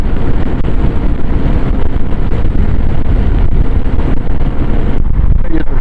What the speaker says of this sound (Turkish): Çok rüzgarı var. Deli deli rüzgarı var şu anda.